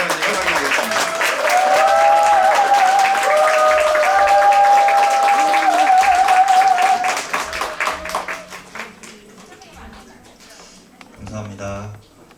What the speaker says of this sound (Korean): 자, 우리 박수, 큰 박수로 우리 김태훈 목사님을 환영하겠습니다.